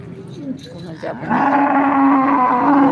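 A cow gives a long, deep moo close by, following brief shuffling and a short lower call, amid the faint bustle of the Modnimb cattle market in Maharashtra.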